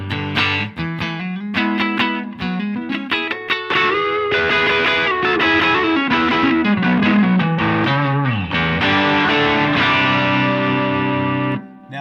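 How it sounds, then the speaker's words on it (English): Heavily overdriven electric guitar through a Duelist overdrive pedal into a Strymon Iridium plays loud, sustained chords and riffs with a thick, gritty distortion and some reverb, ringing out alone until it stops. "That's the heavy hand sound of the Duelist overdrive pedal."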